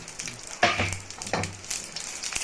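Dried red chillies and coriander seeds sizzling in a little hot oil, a soft steady crackle with a few louder rustling stirs of the dry spices in the pan.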